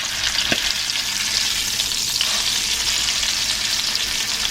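A beef fillet for Beef Wellington sears in a hot pan, giving a constant close hiss with a couple of faint knocks as it is turned.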